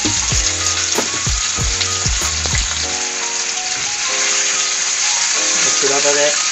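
Pork with kimchi fries in a pan, a loud continuous sizzle with rhythmic thumps and clatter of stirring early on, steady and close throughout.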